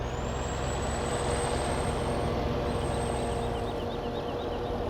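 Dump truck in Farming Simulator 17 during snow plowing, a steady loud engine drone with air-brake hiss and a high whine across the whole stretch, no talking.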